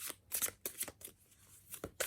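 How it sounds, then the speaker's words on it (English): Tarot cards shuffled by hand in a quiet room, a rapid series of crisp riffling bursts and soft slaps, close and clear with no talking. "I never do live shuffling before"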